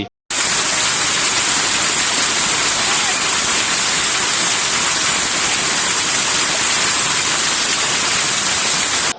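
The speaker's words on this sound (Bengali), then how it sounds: "চট্টগ্রামের বিভিন্ন স্থানত হঠাৎ করে শিলাবৃষ্টি হই" A sudden heavy hailstorm strikes Chattogram, a loud, dense, unbroken roar of pounding precipitation that starts abruptly and holds steady throughout.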